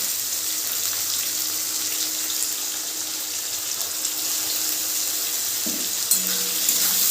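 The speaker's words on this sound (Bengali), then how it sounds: "এক মিনিট মতো মটর ডালটা দিয়ে আমি নাড়াচাড়া করে নেব।" Pui stalks frying with soaked matar dal in a pan, giving a loud continuous hiss and sizzle close up, with a brief stir or clatter near the end.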